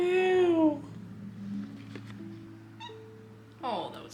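Several cats meow near a scenic viewpoint, a long high drawn-out meow at first, then softer, shorter mews further apart, with a final rising meow, under faint background murmur.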